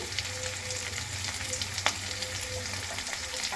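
Finely chopped carrot frying in a pan for semolina upma, a continuous close sizzle with a few faint stirring scrapes and one sharper clink partway through.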